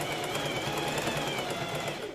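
A sewing machine stitches the first sleeve of a blouse, a continuous, fast mechanical whir heard close and steady without pause.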